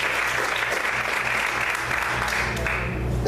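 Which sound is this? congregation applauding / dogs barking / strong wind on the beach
congregation applauding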